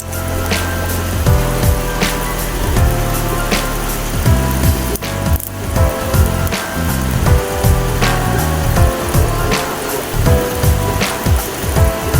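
Steady rain falling, a dense continuous hiss with irregular louder thumps and knocks mixed in, loud and close throughout with no voices.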